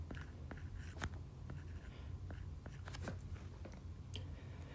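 Quiet, close scratching strokes of writing out a logarithm expression during a math lesson, short irregular marks with small pauses between them.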